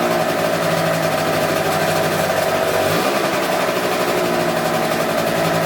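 A scooter engine runs after an idle mixture adjustment, a loud steady buzzing drone close by that swells briefly in a short rev midway before settling back.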